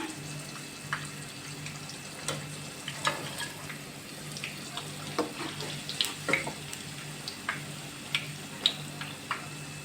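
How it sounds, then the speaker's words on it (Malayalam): Cauliflower fries in hot oil with curry leaves, a steady sizzle broken by frequent small pops and crackles, moderately close and without talk. "കോളിഫ്ലവർ ഇവിടെ നന്നായിട്ട് ഫ്രൈ ആയി വന്നിട്ടുണ്ട്"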